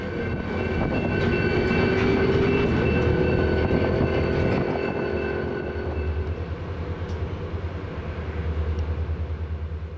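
A BNSF freight locomotive switches cars at rail industries along McIntyre Street. A diesel engine drones low and loud with a faint squeal riding over it, and the rumble eases into a steady throb as the train keeps moving.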